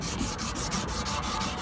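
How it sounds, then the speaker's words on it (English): Rapid back-and-forth abrasive rubbing as a condenser fan motor shaft is sanded by hand, a close, steady scratchy rasp with regular strokes. "You see that I'm here sanding it, sanding the shaft."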